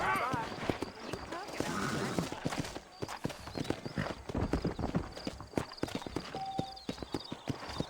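Horse hooves clip-clop in the Red Dead Redemption video game as riders mount up and set off from town; the close, rhythmic hoofbeats run throughout beneath talking voices, with a brief whinny.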